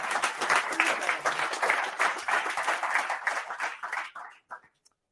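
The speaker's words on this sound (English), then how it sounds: "big applause to my fellow members" Warm applause from a modest audience at a meetup for the event's organizing team, dense clapping that thins out and stops, with a few last isolated claps at the end.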